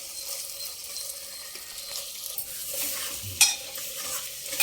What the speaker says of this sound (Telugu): ఇలా కలుపుకోవాలి నిమిషానికి ఒకసారి, లేకుంటే కింద అంటుకుంటుంది